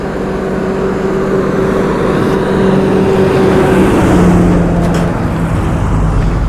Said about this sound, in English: No, it's a truck.